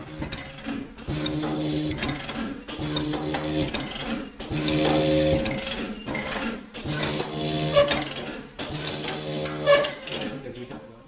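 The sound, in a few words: vacuum seeder machine sowing seeds into nursery trays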